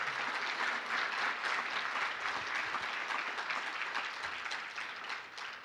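An audience at a conference session breaks into sustained applause, a dense steady clapping that holds at moderate level before fading slightly at the end, with no voices over it.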